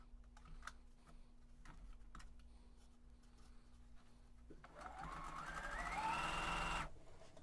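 A sewing machine stitching along the top of a fabric mask pocket. It starts with quiet handling and small clicks, then a steady close whirring run of about two seconds stops abruptly.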